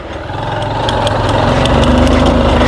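A motorbike engine idling, a close, loud and steady low putter that rises slightly at the start and then holds evenly, with no speech.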